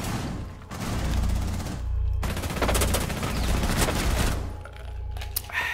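Rapid bursts of gunfire from a Rainbow Six Siege match crackle close and loud in several long volleys, with short gaps between them and a sharp final shot.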